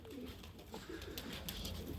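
Soft, low tumbler pigeon cooing close by, repeated murmuring calls over a steady background hum.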